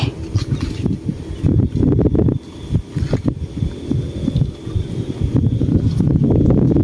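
Gusty wind buffeting the microphone outdoors on rough water during freshwater fishing for snakehead, heavy low rumbling bursts that rise and drop, with a few sharp knocks, and no voices.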